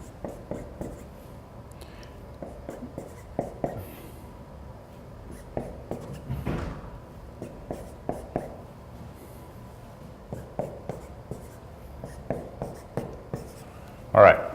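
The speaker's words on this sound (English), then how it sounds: "All right, so let me write it down first." Pen writing out a math solution on paper, a steady run of soft scratching strokes with short taps and pauses, continuing close by at low volume.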